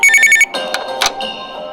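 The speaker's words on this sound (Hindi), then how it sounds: "तभी अचानक टेबल पर रखे फोन की घंटी बजी।" A telephone rings with a few rapid electronic trills, then stops and leaves clattering, knocking sounds in a quiet room.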